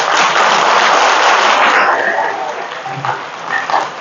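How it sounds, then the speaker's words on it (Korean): An audience at a Buddhist temple sermon breaks into loud, dense applause that fades out after about two seconds, leaving scattered claps and murmuring room noise. "박수 한번 쳐야 안 될까?"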